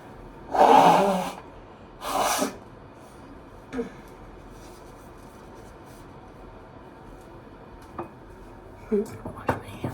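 Two quick sharp sneezes up close, followed by faint sniffs and small rustling noises in a quiet room.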